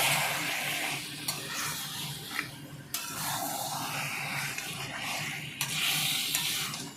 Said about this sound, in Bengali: চিকেনটা দিয়ে আবার সুন্দরভাবে মাংসটাকে কষাবো।